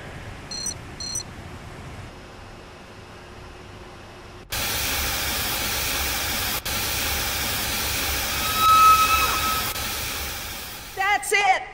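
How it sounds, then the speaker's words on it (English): Steam venting from machinery in Jurassic Park: The Game, a loud sustained broadband hiss that bursts on abruptly partway through after a quieter stretch with a few beeps, then holds steady with small electronic tones near the end. "The steam has been vented."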